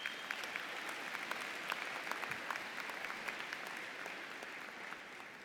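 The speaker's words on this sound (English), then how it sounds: "Give yourselves another round of applause," Graduates at the 2017 UIC College of Business Administration spring commencement ceremony give a sustained round of applause, a dense, steady patter of many hands clapping at a fairly distant, soft level that tapers slightly toward the end.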